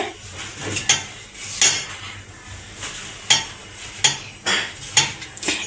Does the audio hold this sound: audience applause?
no